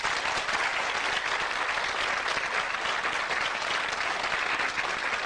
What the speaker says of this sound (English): And a round of applause for the losers, please.